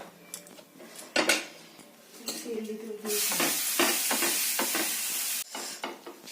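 Pitha rice cakes with a filling fry in a pan for Makar Sankranti, giving a steady loud sizzle for a few seconds between scattered utensil clinks and scrapes.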